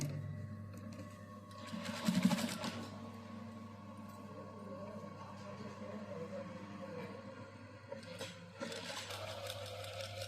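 A sewing machine runs in a short burst while stitching piping onto a blouse neckline, then a steady motor hum carries on underneath, with a second brief burst near the end.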